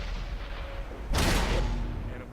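A tank cannon fires in a video game, a single loud broadband blast that hits abruptly and rolls off over about a second, standing out above steady low background rumble.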